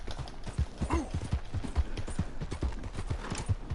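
Horse hooves clip-clop steadily as a horse is ridden along a path in a video game, a moderate, fairly quiet rhythmic trotting with faint ambient sound beneath.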